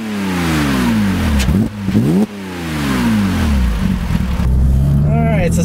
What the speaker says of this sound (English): I'll just give it a few revs and let you hear it.